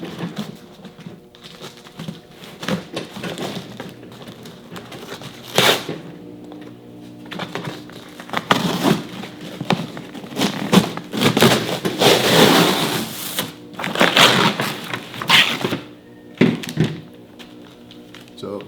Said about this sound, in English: I'm just going to go right through the cardboard and not the seams.